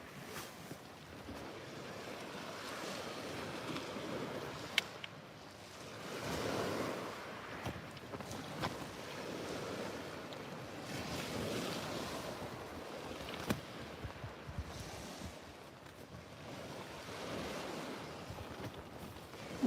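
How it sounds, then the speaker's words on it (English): Wind and surf on the shore at Selsey during a fishing session, a steady broadband rush of waves and gusting wind buffeting the microphone, continuous and fairly loud with no voices. "Bit of wind, fun."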